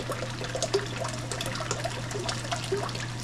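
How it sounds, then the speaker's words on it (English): Water poured from a measuring cup into a pot on the stove for mashed potatoes, a steady trickling splash running close and alone against a low kitchen hum. "So I'm gonna do 2 cups of water and then 2 cups of turkey broth"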